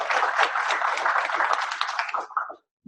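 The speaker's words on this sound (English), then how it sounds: "round of applause there" Seminar audience applauding award-winning students, a brisk burst of many hands clapping close by that holds steady, thins out and stops abruptly near the end.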